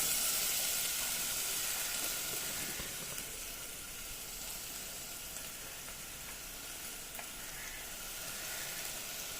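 Onions and curry leaves sauté in a pan for a Kerala-style crab roast, giving a soft, even sizzle and hiss that runs steadily throughout, fairly quiet and close with no talking.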